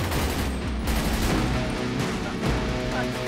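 Sustained gunfire in GTA 5 roleplay, a dense rattle of overlapping automatic shots at steady loudness, with a few louder bursts near the start and end.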